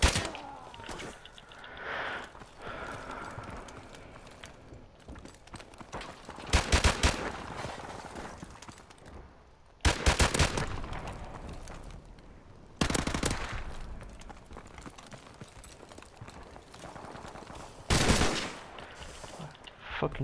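Video game gun firing in repeated loud bursts: a rapid automatic volley, a pause, then further sharp volleys at intervals, with a dense layer of game noise running beneath.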